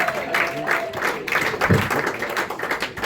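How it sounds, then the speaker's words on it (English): Audience clapping for a comedian at a comedy fundraiser show in Suffield, Connecticut, a moderate burst of scattered hand claps with a few louder claps, steady over a few seconds. "Clap it up for Nick Viagas."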